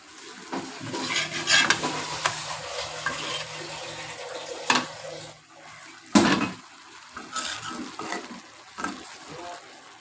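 Coriander leaves and green chillies get stirred in a frying pan: intermittent scraping strokes and clatters rise over a soft, continuous sizzle, close and fairly loud at moments.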